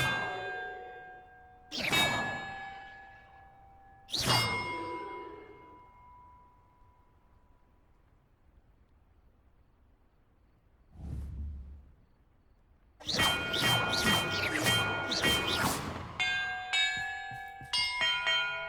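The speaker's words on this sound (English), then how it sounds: "Perhaps the map contains clues about the order I'm supposed to ring the bells in." Large bells rung in the Hogwarts Legacy video game clang out loud and resonant: two separate strikes with long ringing decays, a muffled thud, then a rapid cluster of overlapping bell tones and chimes.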